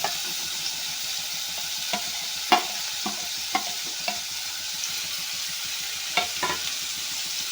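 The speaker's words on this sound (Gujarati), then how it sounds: "મરચાં અને ડુંગળી એડ કરી લઈશું।" Chilies and onion fry in a pan for kanda poha, a constant bright sizzle with scattered scraping knocks of a spoon stirring, close and without talk.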